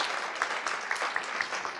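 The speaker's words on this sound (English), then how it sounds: "Loud round of applause for all the teachers." An audience applauds for the teachers at a music academy event, a steady dense patter of many hands clapping for a short stretch, fairly close and even.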